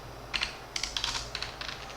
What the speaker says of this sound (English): So I can type something like print